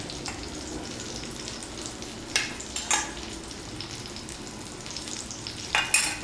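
Chicken fingers fry in hot oil with a steady, dense sizzle, broken by a few brief louder crackles and pops. No voices are heard.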